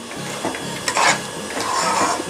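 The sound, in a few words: stirring rava milk sweet in a pan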